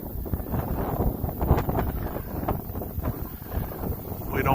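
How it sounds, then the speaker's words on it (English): Strong wind buffets an outdoor microphone at an RC flying field where an Arrows Bearcat model plane is flown, a loud, continuous roar with gusty swells throughout. "So it's pretty much all wind all the time right now"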